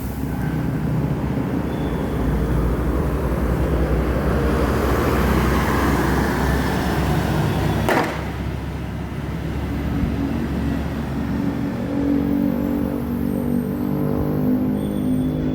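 Sumatran intercity bus arriving from West Sumatra rolls along a busy road during the holiday exodus, a steady loud engine and tyre roar with traffic noise throughout and a brief passing swell midway.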